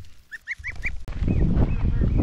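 Baby geese on a homestead farm: four short, high chirps in quick succession near the start, then a sharp knock and louder mixed rustling with faint, thin peeps continuing underneath.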